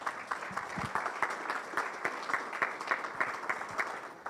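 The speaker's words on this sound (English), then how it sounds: "So give her a round of applause." Audience applause at a county budget meeting: a steady spread of many hands clapping at moderate distance, continuous and even for several seconds with no talking.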